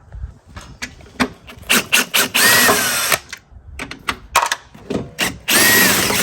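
A power tool loosens the top shock bolts on a Mercedes CLS550 with air suspension, firing in short, sharp bursts of whirring and ratcheting, close and loud, with a few longer runs between the quick pulses.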